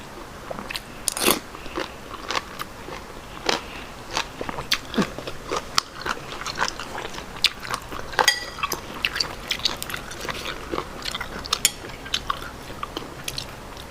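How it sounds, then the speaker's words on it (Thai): Crispy fried wonton bitten and chewed up close, with sharp crunches at irregular intervals, some louder snaps, and faint crackling between bites. "เกี๊ยวกรอบ"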